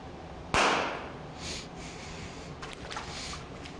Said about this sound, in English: we'll pop the inside balloon and you'll have a small explosion with the water coming out